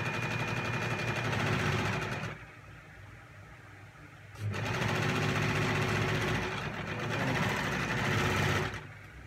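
A Pfaff Coverlock 3.0 overlock and coverstitch machine runs in two loud, close bursts of fast rattling hum, separated by a short pause and ending abruptly.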